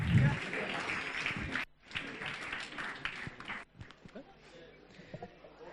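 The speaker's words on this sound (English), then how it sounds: "a big round of applause for them, ladies and gentlemen" A crowd at a live evening function claps in a loud, dense burst lasting over a second, then a voice takes over and keeps talking above fainter scattered clapping.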